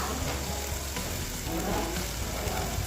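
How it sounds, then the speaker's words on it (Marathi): Ground masala paste with curry leaves, homemade spice mix, turmeric, coriander powder and salt roasts in a hot pan for eggplant bharit, producing a steady, dense sizzle that fills the whole stretch without pause. "मसाला छानपैकी भाजून घ्यायचा आहे."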